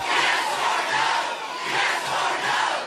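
An angry town hall crowd in Florida shouting at Congressman Gaetz, a dense roar of many overlapping voices that swells and dips slightly but stays loud and continuous throughout.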